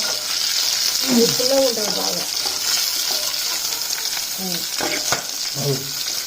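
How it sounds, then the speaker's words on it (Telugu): Green chillies splutter and pop in hot oil, a steady close sizzle with scattered crackles while a voice speaks briefly in places. "పచ్చిమిరపకాయలు వేస్తున్నప్పుడు దూరంగా ఉండాలి పట్ట పట్ట పలుకుతా ఉంటాయి నూనె మీద పడుతుంది"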